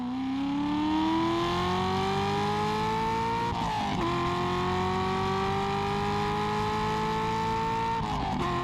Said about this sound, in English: When LS7s are opened up with loud exhausts and they get revved out, they can be one of the best sounding American engines out there.